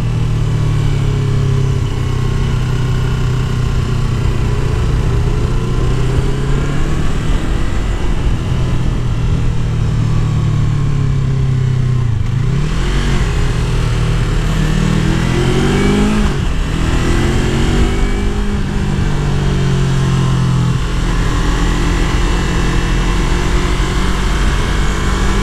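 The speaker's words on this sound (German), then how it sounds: "So, Yamaha R3 mit Akrapovic." A Yamaha YZF R3 motorcycle fitted with an Akrapovič exhaust runs loud and close, its engine note droning continuously and rising and falling with the revs throughout.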